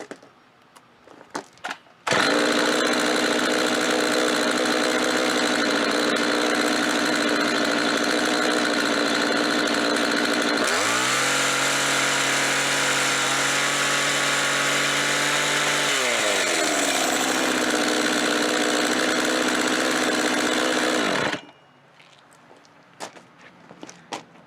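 A chainsaw engine driving a homemade air compressor starts up and runs loud and steady for about twenty seconds, its pitch dropping into a lower, heavier drone partway through before rising again and cutting off.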